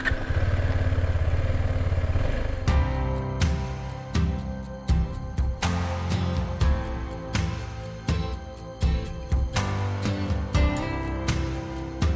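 A KTM Adventure 390 motorcycle engine runs close by with steady idling and irregular revs and clattering bursts, loud and continuous, with no speech.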